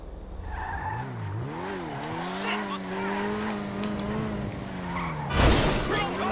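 Vysser Neo sports car driven in GTA Online, a sustained engine tone rising and falling through gear changes, with tire squeal and a sharp crash or impact near the end.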